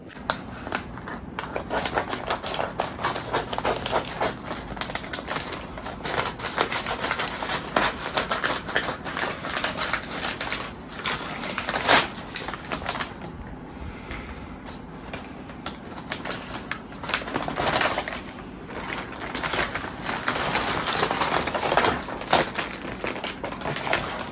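A large parcel's packaging is torn open by hand, with continuous crinkling, ripping and rustling at close range that swells and eases in uneven bursts.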